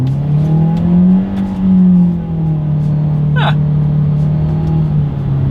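A 2024 Mitsubishi Eclipse Cross with a CVT accelerating hard from a standstill, its engine drone rising and dipping at a stepped simulated shift, a steady loud hum heard from inside the cabin.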